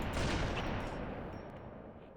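Sustained turret gunfire in Halo 2, a dense continuous roar of rapid shots that stays loud and slowly tapers over a couple of seconds, with no talk.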